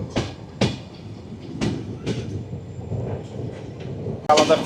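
Sundarban Express passenger train rolling out of Bhanga station, a steady low rumble of wheels and carriage noise with a few sharp clanks and knocks near the start and a brighter rattling burst at the end.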